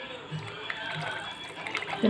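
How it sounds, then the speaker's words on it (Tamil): Dry pasta slides into a pot of boiling water on a home stove, giving a soft, steady bubbling and watery churn at moderate loudness, with a brief splashy burst near the end. "இப்போது தண்ணி கொதிச்சிச்சு பாஸ்தா போட போகிறேன்"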